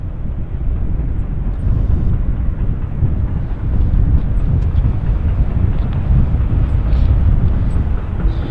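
A Lufthansa aircraft at Vancouver Airport gives off a loud, steady jet roar that holds without a break throughout.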